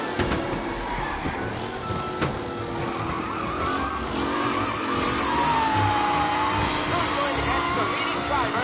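Race cars on the final lap of a race in the game Mafia, their engines droning steadily together with tires squealing and skidding throughout, loud and continuous, an announcer's voice running over the mix.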